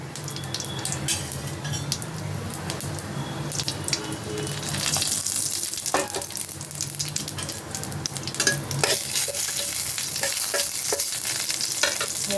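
Steady crackling sizzle of a bay leaf and radhuni spice frying in hot oil, close and fairly loud, with occasional clinks of a utensil stirring the pan.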